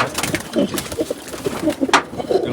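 Several senior male pigeons shut in a loft during moulting coo in short, overlapping bursts close by, with a few sharp knocks and shuffles among them.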